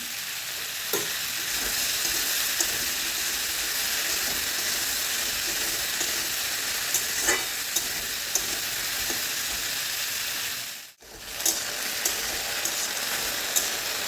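Sliced okra sizzles steadily in a hot pan while a utensil stirs it now and then, sharp scrapes and ticks rising above the constant frying hiss; one brief dip in sound near the end.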